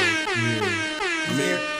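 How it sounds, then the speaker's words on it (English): A loud air horn blares in quick repeated blasts, harsh and brassy, filling the whole clip. "These air horns."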